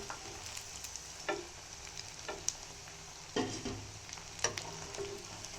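Cutlets for a bird's nest cutlet dish fry in a pan with a steady low sizzle, broken by a few scraping stirs or turns at irregular moments, heard close and alone.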